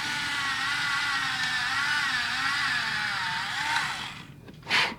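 A small AA battery-powered drill fitted with a 1mm bit whines steadily at close range, a continuous high motor buzz that wavers slightly and stops near the end, followed by a brief rustle.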